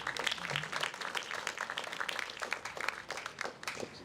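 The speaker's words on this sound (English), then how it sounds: "Give him a round of applause again." Audience applause at a late-night community event, scattered claps of moderate, uneven density that flicker and rise and fall throughout, fairly quiet and heard from some distance.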